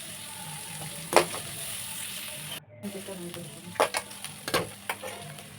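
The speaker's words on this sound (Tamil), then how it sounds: "சேர்த்துட்டு ப்ரௌன் கலர் ஆக வரைக்கும் வணக்கணும்." Onions frying in a pan with mustard seeds and curry leaves for masala macaroni, a steady soft sizzle punctuated by several sharp spoon scrapes and stirring clatters.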